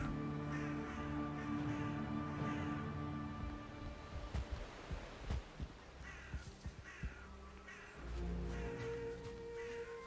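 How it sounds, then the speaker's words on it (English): A bird in the video game Valheim gives repeated harsh, crow-like cawing calls close by over a steady wash of surf-like ambience, then the calls thin out into scattered clicks before the background rises again. "that bird just tried to take me out"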